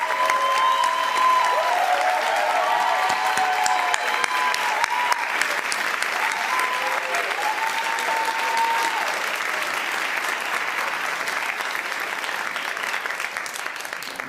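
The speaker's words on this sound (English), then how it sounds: "if you could give them a huge round of applause" Sustained audience applause for Africana Studies faculty and staff at a commencement ceremony, a dense steady wash of clapping across the whole stretch with faint crowd voices mixed in.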